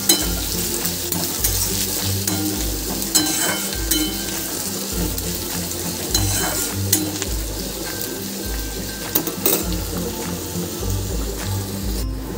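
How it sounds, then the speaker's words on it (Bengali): Chopped onion sizzles steadily in hot oil in a pan, with a pulsing rhythm of stirring scrapes and a few sharper clicks of the utensil against the pan. "পেঁয়াজটাকে আমি একটু ভালো করে ভেজে নেব।"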